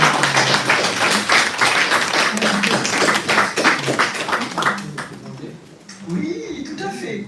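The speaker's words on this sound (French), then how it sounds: "mais j'aimerais vous demander de les applaudir." An audience applauds guests from Lorraine, a dense, loud run of clapping that gradually thins and fades out over several seconds.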